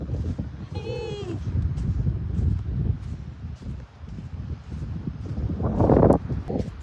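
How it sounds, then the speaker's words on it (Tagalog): Strong wind gusts buffet the microphone at a beach campsite, a rough continuous roar under close speech and brief laughter. "Sobrang lakas ng hangin."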